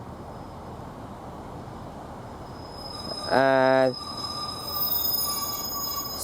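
A 10:43 Bishop Auckland to Saltburn train pulls into Thornaby station, its brakes letting out one loud, sustained squeal with stacked harmonics for about half a second before fading into rumbling platform ambience; a brief word is spoken.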